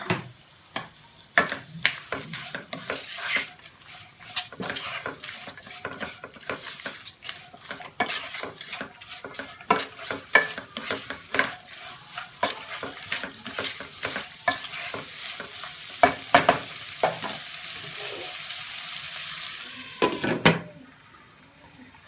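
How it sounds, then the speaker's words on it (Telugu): Red onions with salt fry in a kadai over a medium flame, with a low sizzle under repeated scraping and clinking of a spatula stirring against the metal. "స్టవ్ మీడియంలో, సిమ్లో అలా అడ్జస్ట్ చేసుకుంటూ కొంచెం లైట్ గోల్డెన్ కలర్ వచ్చే వరకు ఫ్రై చేసుకోవాలి."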